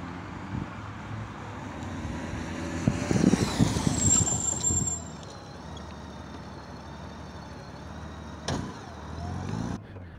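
Motorcycle making an emergency stop from about 20 mph in a short practice setup: engine and tyre noise swell briefly mid-clip, then settle into steady low road and traffic rumble, with a brief sharp noise near the end.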